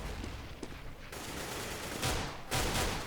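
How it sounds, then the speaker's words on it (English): Gunfire in a Counter-Strike match on the Nuke map, with faint scattered shots followed by two louder sharp bursts near the end, sounding fairly distant and muffled. "Nice headshot from Tabson"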